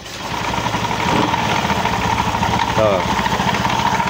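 Honda Beat Street scooter idling close by with a rough, rattling CVT, a steady throbbing engine note carrying a coarse grinding layer, while someone briefly speaks over it.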